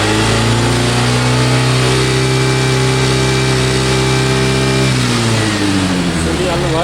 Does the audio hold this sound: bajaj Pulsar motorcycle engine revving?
yes